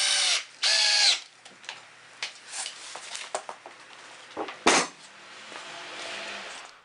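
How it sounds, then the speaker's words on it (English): A power drill bores 5/8 inch holes for bolts while building a motorcycle platform ramp, with two loud whirring bursts at the start, then scattered clicks and knocks and a quieter ratcheting spin later. "drilled a 5/8 inch hole to tightly fit the 3/4 inch bolts"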